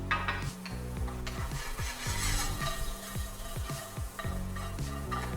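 Onions and garlic sweat in butter in a pan, a soft sizzle under frequent close scraping strokes of a utensil against the pan in a busy stirring rhythm.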